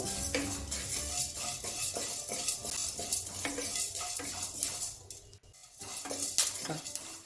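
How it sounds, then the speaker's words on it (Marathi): Cumin seeds and black peppercorns dry-roasting in a pan for matar kachori masala, with a steady scraping and stirring clatter and light rattling of spices against metal, continuous and close. "जिरं मिरे आपण हे एक ते दोन मिनिट भाजून घेऊया थोडासा कलर चेंज होईपर्यंत"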